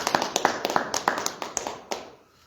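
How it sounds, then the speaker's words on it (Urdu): Clapping from a church congregation during a worship service, a run of sharp, uneven claps that are fairly close and moderately loud, thinning out and fading over a couple of seconds. "آئیے یسوع مسیح کے لیے زوردار تالیاں بجائیں"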